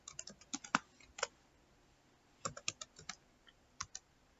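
Quick bursts of keystrokes on a computer keyboard as a username is typed in, close and crisp clicks in two short clusters separated by a pause, with a final couple of taps.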